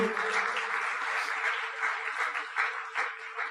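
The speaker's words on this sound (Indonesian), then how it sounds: "Jadi sekali lagi kita aplaus untuk perusahaan Tiansi" An audience claps together in continuous, dense applause at a company gathering. The sound carries a slightly distant, roomy quality with a low steady hum beneath it.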